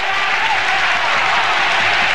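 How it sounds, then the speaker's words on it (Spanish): A packed stadium crowd at La Romareda football ground gives a sustained, roaring ovation to a captain during a European cup match between Zaragoza and Feyenoord, a dense wall of applause and cheering that holds steady and loud throughout. "Escuchen la ovación de gala para el capitán, para el hombre que abrió el marcador, para Miguel Pardeza."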